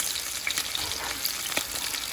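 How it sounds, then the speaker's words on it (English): Tilapia fillets with seasoning sizzle steadily in a hot pan, a constant crackling hiss with small pops scattered throughout and no talking. "the tilapia is frying with the seasoning on it"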